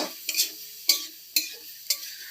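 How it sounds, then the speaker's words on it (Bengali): Chhena mixture for sweet sandesh being stirred and fried in a pan, a few scraping strokes at intervals over a low sizzle, close and fairly quiet. "দু থেকে তিন মিনিট আমি এই মিশ্রণটিকে নেড়ে চেড়ে এবার নামিয়ে নেব"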